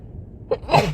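A sudden, forceful human sneeze breaks a quiet moment: a sharp intake, then a loud, close burst that trails off within about half a second.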